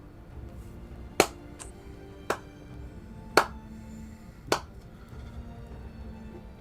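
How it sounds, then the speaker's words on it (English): Four sharp, isolated claps, roughly a second apart, sound fairly faint over a quiet background hum. "You will hear the sound of clapping."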